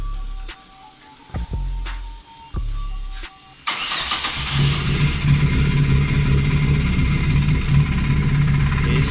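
A car engine cranks after a 276 Estas cam is fitted: several rhythmic starter turns with brief stops, then it fires and settles into a steady, loud, close idle with a faint whine.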